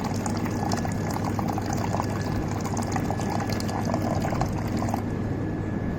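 Water streams steadily from a Blue Star RO+UV water purifier in continuous mode, a pouring hiss with a low hum underneath, ending abruptly near the end.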